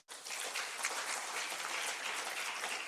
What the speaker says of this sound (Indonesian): Tepuk tangan dulu buat Pak Wamen Dikti ini